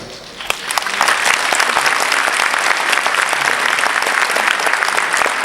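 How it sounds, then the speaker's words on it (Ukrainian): An audience at an award ceremony for a doctor breaks into sustained, dense applause that swells quickly and holds steady, loud and full with no voices over it. "Дякую вам за аплодисменти"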